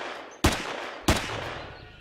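Two sharp gunshots, about half a second apart, fire at a raptor in the survival video game Empyrion. Each is loud and close, with a brief ringing tail.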